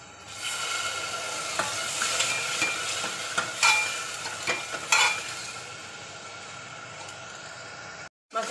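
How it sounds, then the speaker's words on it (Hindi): Soaked masala roasting in a pan of oil with red chilli for a spicy arbi curry, a steady sizzle and hiss broken by sharp spatula scrapes and clinks, then a brief cutout at the end. "इसको अच्छे से भून लेते हैं ताकि रंग अच्छा आए। इसमें हम भीगा हुआ मसाला,"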